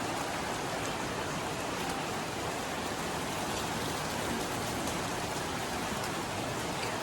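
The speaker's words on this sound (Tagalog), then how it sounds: "So ayan, umulan na nga ngayon." Rain pours steadily at the start of the rainy season, a dense even hiss of drops on surfaces, constant and unbroken throughout with no voices.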